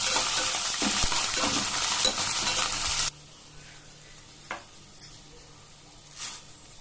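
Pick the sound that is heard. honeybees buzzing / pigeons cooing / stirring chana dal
stirring chana dal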